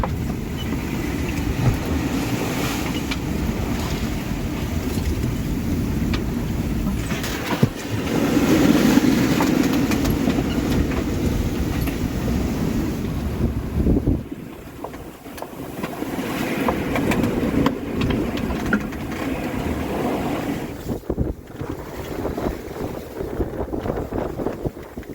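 A lone sailboat runs through the wind on the open sea toward Australia, with rushing water, wash and gusty wind buffeting steadily and a brief lull midway.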